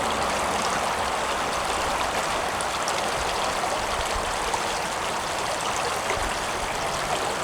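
Creek water flowing steadily in a continuous broad rush with a trickling, splashing texture, close and unbroken throughout, no voices.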